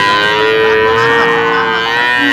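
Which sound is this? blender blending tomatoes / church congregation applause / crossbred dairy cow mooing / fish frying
crossbred dairy cow mooing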